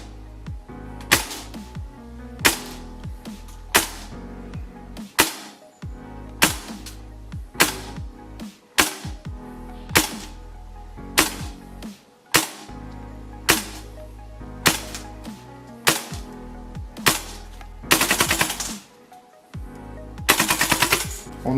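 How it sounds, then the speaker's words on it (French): Sharp gas blowback shots from a King Arms M2 Carbine paratrooper airsoft replica, loud and close, fired in short bursts and single shots with brief pauses, ending in a longer rapid string near the end. "On va aller au test chronie et au test de tir"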